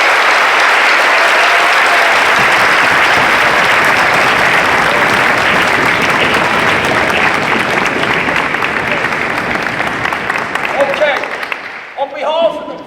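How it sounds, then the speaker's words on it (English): A big audience gives loud, sustained applause for a Royal Marine Corps of Drums team at a school presentation, a thick roar of clapping that holds steady before thinning out, with a few voices surfacing at the end. "what I would like to do is a round of applause for the team"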